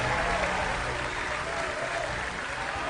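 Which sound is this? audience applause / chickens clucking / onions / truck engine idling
audience applause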